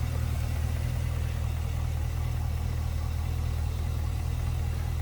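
A 2010 Chevrolet Camaro SS with a 6.2 liter LS3 V8, K&N cold air intake and automatic transmission, idling steadily with a deep, even low rumble, close and constant.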